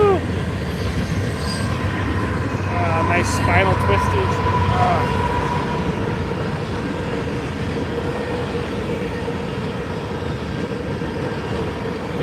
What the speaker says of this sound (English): Hopefully this train will pass.